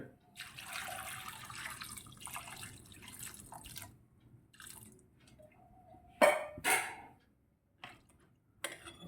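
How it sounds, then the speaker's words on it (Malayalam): Water trickles and splashes into a pot of curry with chopped shallots in short bursts, with a louder pouring splash near the end; no voices. "ഇനി നേരത്തെ വെള്ളം ഒഴിക്കാവേ"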